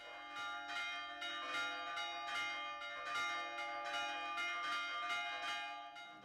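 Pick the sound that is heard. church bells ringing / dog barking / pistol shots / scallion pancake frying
church bells ringing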